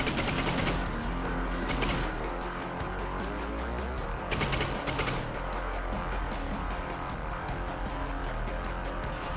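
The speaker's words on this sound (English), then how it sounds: "And he's shooting at me." Rapid bursts of enemy gunfire in the Half-Life: Alyx video game, loud and dense, with sharp volleys near the start and middle over a continuous rumbling battle background.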